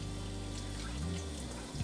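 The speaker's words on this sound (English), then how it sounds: "after you get the soap rinsed off one time, shake it out a little bit and then rinse it again, just to get all the soap residue off the liner" Tap water runs steadily over a prosthetic liner as soap is rinsed off in a sink, a continuous close splashing stream with no talk.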